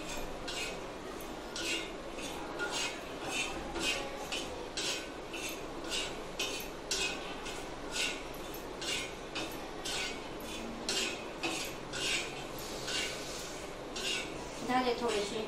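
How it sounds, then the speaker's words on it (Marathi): Peanuts roasting in a pan with green chilli and garlic while being stirred, a steady rhythmic stream of spoon clinks and scrapes against the pan, close and moderately loud. "शेंगदाणे चांगले व्यवस्थित भाजून घ्यायचे। चांगले त्यांना व्यवस्थित हलवायचे।"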